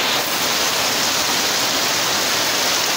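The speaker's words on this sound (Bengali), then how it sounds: "বৃষ্টির ভিডিও করছে, বৃষ্টি দেখুন।" Torrential rain pours down heavily during a festival season downpour, a dense, steady roar of water that stays loud and unbroken throughout with no pauses.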